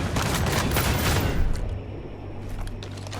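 Gunfire in the video game Ghost Recon Breakpoint, a loud burst of rapid shots in the first second and a half, then fading into quieter echoing reports and ambient rumble.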